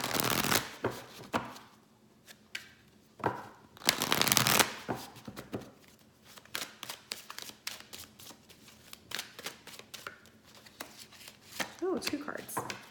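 Angel oracle cards are shuffled by hand in repeated quick riffling bursts, close and crisp, with soft tapping between rounds and a voice speaking quietly at times.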